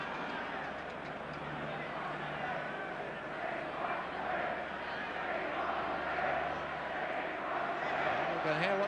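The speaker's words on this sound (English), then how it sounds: "You can hear what the crowd want." Football crowd at a World Cup match between England and Germany, chanting and roaring continuously throughout, a dense, steady wall of massed voices that swells slightly toward the end.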